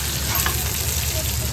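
Pieces of barramundi fish fry in a pan with a loud, dense, continuous sizzle that holds steady throughout, heard up close.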